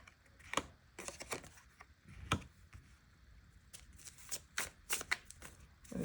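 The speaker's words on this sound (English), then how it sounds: "So with that, I'm going to start shuffling." Tarot cards are shuffled by hand in soft, quiet bursts of riffling and flicking, irregular clusters of crisp papery snaps with short pauses between them and no talking.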